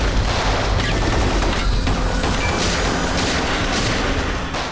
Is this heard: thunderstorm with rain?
no